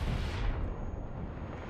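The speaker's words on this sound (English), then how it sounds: "And then I get hit by the old Panzer IV-G." A shell from a Panzer IV-G strikes a tank in War Thunder, a loud, close heavy boom with a rumbling low-end burst that slowly fades, no voices present.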